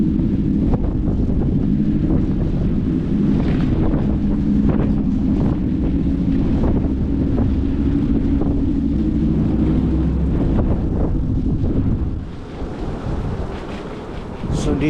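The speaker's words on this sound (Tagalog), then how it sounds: "Malakas ang hangin guys, oh." Strong wind buffeting the microphone outdoors at a seasonal market at Yonge and Steeles in Toronto, a loud, low, continuous roar with gusty surges, and some faint voices underneath.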